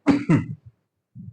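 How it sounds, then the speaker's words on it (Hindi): A man gives a short cough, two sharp close bursts followed by a faint rumble and a softer throat-clearing sound, alone in a quiet room during a Hindi-language exam lesson. "वो थोड़ी सी खांसी हो गई थी"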